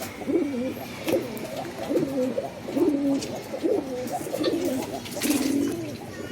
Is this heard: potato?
no